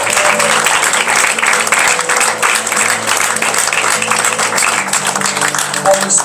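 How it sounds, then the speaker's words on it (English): A church congregation claps during a Sunday service, giving a round of applause for a man being prayed for; loud, sustained clapping runs throughout, with a low sustained organ or keyboard tone underneath. "give him a round of applause"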